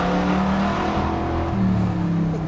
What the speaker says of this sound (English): Every time I step on the gas, the car's just like, ruh, ruh,